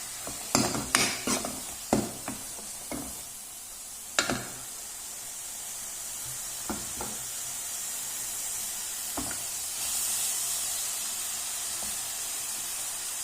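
Curry leaves and green chilies sautéed in a pan for a green pea curry give a low continuous sizzle, broken by a run of sharp utensil scrapes and taps early on that thin out later.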